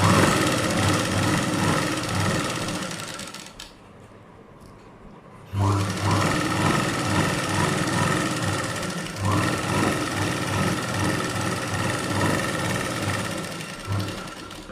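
A sewing machine stitches a blouse in a steady, continuous mechanical whir, pausing briefly in the middle and then resuming close and loud.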